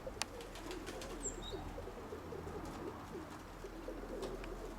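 Soft pigeon cooing rises and falls against quiet background hiss, with a brief chirp near the start.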